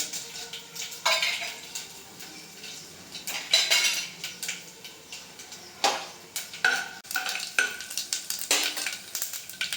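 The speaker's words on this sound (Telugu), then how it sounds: "ఆల్రెడీ నూనె కాగే ఉంది కాబట్టి తాలింపు గింజలు వేసేస్తున్నాను" Hot oil sizzles as whole tempering spices and dried red chillies hit the pan, with bursts of crackling, stirring scrapes and metal utensil clinks.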